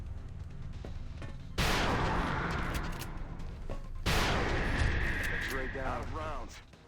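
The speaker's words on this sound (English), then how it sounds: "we can then switch over to Adam, who can use rapid fire to take care of Chryssalid number 2" Rapid-fire gunshots in the video game XCOM Enemy Within, heard as two loud sustained bursts of weapon fire close up, the second trailing into mechanical tones and electronic chirps.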